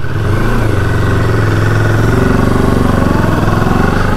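A Moto Morini X-Cape 650 motorcycle idles close by, a loud, steady, even engine throb with a low rumble that holds continuously throughout, with no voices.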